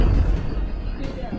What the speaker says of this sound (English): That chilling sound is from an explosion in Franklin 6 days ago.